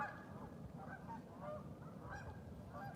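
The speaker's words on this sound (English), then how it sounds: "You hear that goose right there, or that geese backing me up with sound confirmation?" Geese honk repeatedly in the distance beside icy water, several overlapping calls over a low rumbling background.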